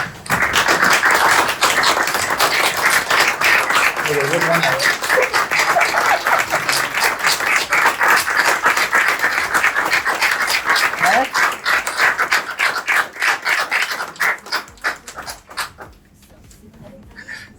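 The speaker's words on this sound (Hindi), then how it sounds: "सब खड़े हो जाओ, तालियां हो जाओ" Office sales staff stand and clap for a colleague's surprise, sharp close hand claps in a fast irregular patter lasting most of the stretch, with voices mixed in before the clapping thins out and stops near the end.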